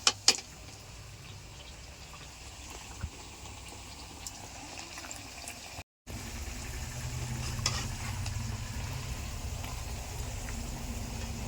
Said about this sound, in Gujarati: હવે પૂરી તળશું તો એ બતાવું કેવી થાય એમ